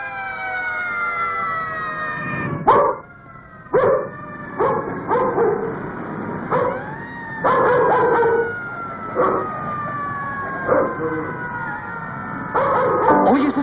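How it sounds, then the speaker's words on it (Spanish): Police and emergency sirens wail in rising and falling tones through an old 1959 Mexican film soundtrack, loud and continuous, with repeated sharp barking dogs breaking in over them. "¿Oyes esas sirenas? Son para ti."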